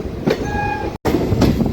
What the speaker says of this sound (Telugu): సో రౌలీ స్టేషన్కి అయితే మన ట్రైన్ అయితే వచ్చేసింది అనమాట.